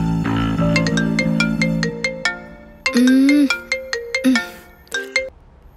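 A melodic phone ringtone plays loud and clear for the incoming call, its chiming notes repeating in bright bursts with no talking over it.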